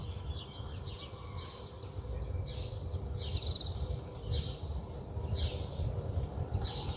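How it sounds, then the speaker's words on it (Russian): Songbirds sing near an abandoned Sikh temple by the India–Pakistan border, with repeated bright whistled phrases and chirps rising over a steady rural hum and faint low rumble, no voices. "Очень красиво поют птицы."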